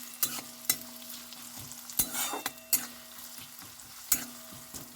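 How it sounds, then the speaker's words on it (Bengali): Finely chopped onions fry in butter and oil for a chicken dish, a quiet continuous sizzle punctuated by sharp, irregular clacks of a spoon stirring the pan. "এই বাটার আর তেলের মধ্যে যে পেঁয়াজটা দিয়ে দিয়েছি"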